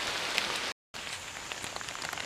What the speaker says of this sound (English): Pouring rain though.